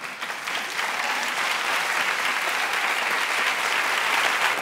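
A studio audience on a talk show claps in a sustained, dense burst of applause that swells slightly and holds steady for several seconds, with no voices over it.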